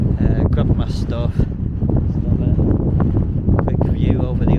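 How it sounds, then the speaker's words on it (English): Strong wind on an exposed hilltop in the Forest of Bowland, a steady low roar buffeting the microphone throughout while a person talks over it. "very windy up here, so that might affect it."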